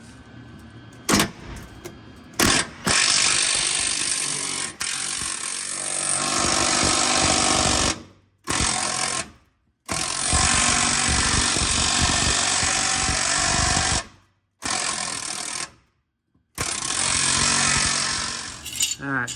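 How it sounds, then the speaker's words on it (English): Impact wrench with a 15mm socket hammering at a rusty nut on a 1996 Dodge Dakota fuel tank strap, loud rattling bursts of several seconds each separated by short silent gaps, up close. "I'm gonna take an impact here with a 15mm socket. Hopefully this nut comes loose."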